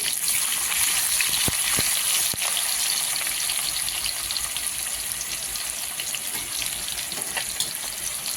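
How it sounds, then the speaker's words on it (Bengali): Chopped onions sizzle steadily in hot oil seasoned with panch phoron five-spice, a loud, continuous frying hiss close by, with a few sharp ticks from a utensil against the pan. "একটু লাল লাল করে ভেজে নেবো পেঁয়াজটা"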